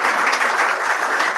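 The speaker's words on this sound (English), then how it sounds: "Also, a big clap to Lori for taking over that position." Applause from the audience at a Rotary club meeting, a steady dense wash of many hands clapping together at close range for a brief moment, with no talking over it.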